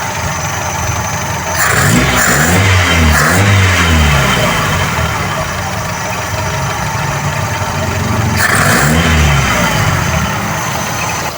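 A Toyota 2E carburetor engine idles steadily while its throttle is adjusted, blipped twice in quick succession early on and once more later, each rev rising sharply and falling back to a rough idle, close up and without speech.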